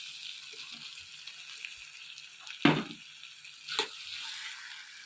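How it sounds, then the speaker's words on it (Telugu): Fried prawns tipped into a sizzling pan for a prawn fry, with a steady frying hiss and two sharp bursts as they land and get stirred. "ఇలాగ అయిన తర్వాత వేపిన రొయ్యలని దీంట్లో వేసుకోవాలి ఫ్రెండ్స్."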